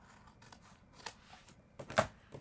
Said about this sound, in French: On peut couper comme ça les extrémités.